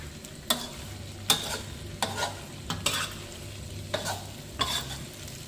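Korat-style rice noodles are stir-fried in a pan, with roughly seven sharp scraping stir strokes at irregular intervals over a soft, steady sizzle close by.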